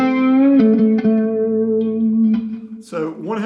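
Blues lead line on electric guitar played through a Fender Mustang LT25 amp with reverb and chorus, sustained bent notes ringing loud and close, a few picked accents, ending in a quick sliding phrase.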